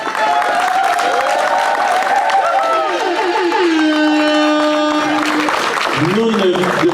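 Guests applaud and cheer at a civil and religious wedding ceremony, with steady, loud crowd noise, whoops and overlapping voices running continuously throughout.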